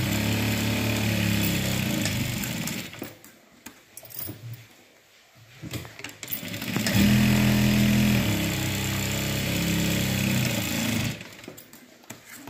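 A sewing machine stitches a straight line on a blouse in two nearby bursts, each running a few seconds with a steady hum, separated by a quieter pause with light handling clatter.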